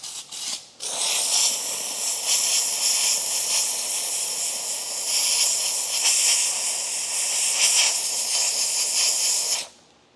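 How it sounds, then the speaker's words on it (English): Steam cleaner blasting pressurized steam into the inside of a car door, a loud continuous broadband hiss lasting about nine seconds after a brief sputtering start, then cutting off. "What I would like to do is just steam it."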